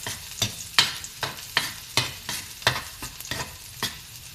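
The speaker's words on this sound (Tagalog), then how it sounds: "I-brown po natin itong bawang." Garlic fries and browns in a pan, a soft continuous sizzle broken by regular scraping stirs roughly every half second, close and fairly loud with no talk.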